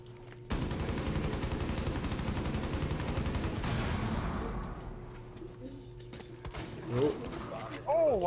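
Gunfire in Rainbow Six Siege, attributed to a sniper rifle, erupts as a loud, dense burst of rapid shots lasting about three seconds, then fades into quieter game sounds with a few scattered knocks.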